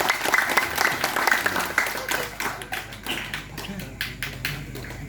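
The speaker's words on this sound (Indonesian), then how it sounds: "Tepuk tangan untuk kalian." Applause from the audience at a Maulid Nabi gathering and thanksgiving for new PSHT members, a dense patter of many hands clapping steadily throughout, fairly close and loud, with some voices mixed in.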